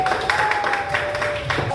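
Fifth-grade elementary pupils clap together for group 3 in a classroom, with a dense, steady patter lasting the whole moment and a thin, high electronic whine running through it.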